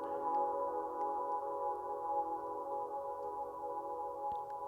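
A steady, mellow synth tone lingers alone in a wash of reverb from a Strymon BlueSky v2 pedal, fading very slowly without any other sounds.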